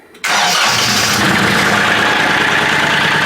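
A Kioti CK3510 tractor's diesel engine starts from cold with glow plugs, a brief crank and then a loud, steady, close-up idle that continues to the end.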